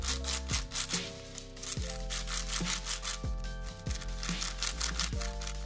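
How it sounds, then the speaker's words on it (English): A broken MGC6 speed cube being turned, repeated gritty rubbing and scraping grinds in an uneven rhythm, close and fairly loud, with no talk. "for this, my MGC6, you can kind of hear the grinding sound"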